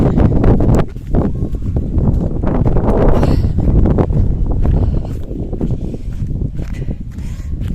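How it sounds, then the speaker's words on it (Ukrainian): Wind buffets the microphone in low, rumbling gusts throughout, loud and close, with some handling and movement noise mixed in. "щоб вітер не задував"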